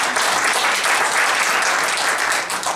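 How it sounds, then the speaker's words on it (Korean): Loud, steady audience applause fills a hall at a Daegu citizens' forum on a new southern-region airport, many hands clapping densely and continuously before fading slightly at the end. "다시 한번 발제해 주신 우리 한근수 박사님께 큰 박수 부탁드리겠습니다."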